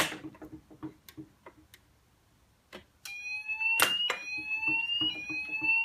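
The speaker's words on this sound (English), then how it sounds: "So I'll just set off the alarm here on our mock-up." A Ziton ZP3 fire alarm panel on a training mock-up clicks and ticks quietly, then bursts into a loud, steady electronic alarm tone that holds to the end.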